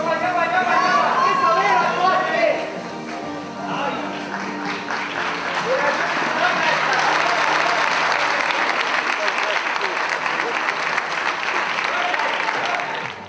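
An audience at an Estonian bodybuilding and fitness championship breaks into sustained applause and cheering that fills the room, after a brief stretch of voices at the start.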